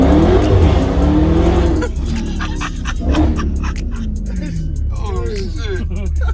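A 2019 Dodge Charger Hellcat spinning its wheels, heard from inside as a loud roaring engine with tire squeal, then settling into a lower rumble while people talk and exclaim over it.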